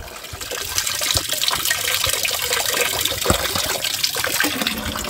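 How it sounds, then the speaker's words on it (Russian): Clean spring water flows steadily from a roadside spring in the hills of Georgia near the Armenian border, a close, continuous splashing rush without talk. "Чистая родниковая вода."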